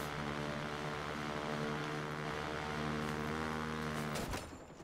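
A helicopter flying in the video game Watch Dogs, a steady droning engine and rotor hum held close and loud, with a brief crash-like break near the end.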